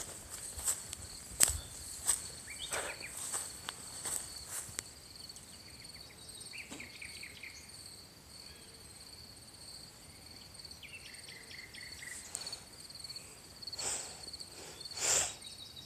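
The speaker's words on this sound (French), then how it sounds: "j'entends. Les grillons, les crapauds, mais pas les femmes." Crickets and toads call at night in a forest, a steady high chirring bed with scattered faint clicks and light rustling footsteps nearby, fairly quiet throughout and with no one speaking.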